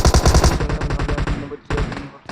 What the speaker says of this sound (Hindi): ताबड़तोड़ गोलियां चली यहाँ पे